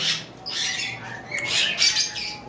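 Pineapple conures, cockatiels and lovebirds squawk at a bird farm, with several overlapping harsh, shrill calls in short bursts, fairly close and steady throughout, with no talking.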